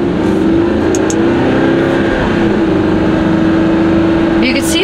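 A Porsche 911 991.1 Cabriolet with an X51 package and a single-clutch automated transmission drives along, its engine a steady loud drone with slight surges as the gearbox jerks, and talk running over it.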